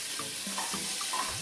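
A spoon stirs shrimp curry around in a cooking pot, giving soft, irregular scraping and gentle sizzling through a quiet, continuous background with no talking.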